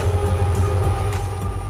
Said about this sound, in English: Freight train. A train designed to transport goods and cargo, usually over long distances